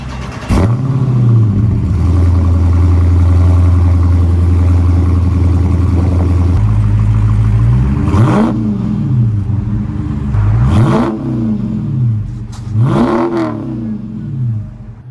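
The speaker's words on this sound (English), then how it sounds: "I'm gonna rev the car up as high as it can go." A 2023 Dodge Charger Scat Pack Widebody's engine, cold-started, roars loudly and steadily for several seconds, then revs sharply three times, each blip rising and falling back to a throaty idle.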